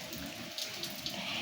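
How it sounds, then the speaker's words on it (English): Rain falling outdoors near a garden, a steady, soft hiss of drops with faint brighter patters, heard alone without talking. "But it's raining."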